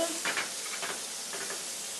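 Butter sizzling on a hot plancha, frying to colour scallops, a steady close hiss with a few brief stirring or scraping touches, no talk.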